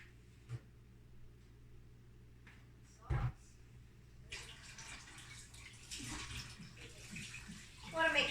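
Food rinsed under a running kitchen tap to wash off soap: a steady gush of water starts about halfway through and continues to the end, while a person talks quietly nearby.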